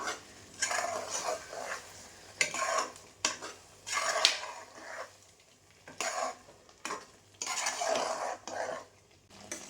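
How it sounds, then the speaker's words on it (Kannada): Masala for a chicken curry is stirred in a pan, with scraping spoon strokes and metallic clinks against the pot coming in irregular bursts over a faint sizzle, close and moderately quiet, no talking. "ಒಂದ್ಸಲ ಚೆನ್ನಾಗಿ ಕಲಿಸ್ಕೊಳ್ಳಿ ಮಸಾಲೆ ಎಲ್ಲ ಹಾಕಿದ್ಮೇಲೆ"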